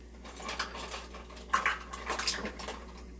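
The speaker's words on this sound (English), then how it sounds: "I'm going to use my smaller measuring cups because I like to take a scoop" Small measuring cups clink and scrape in a bowl of egg mixture for egg muffins, giving a few light, close metallic taps and scrapes, quiet and irregular, with no talk.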